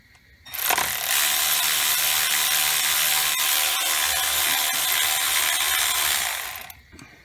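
A ratchet on an extension loosens a camshaft solenoid bolt on the 3.6 engine of a 2010 Chevrolet Camaro, giving a close, steady run of rapid clicking that lasts about six seconds with no talking.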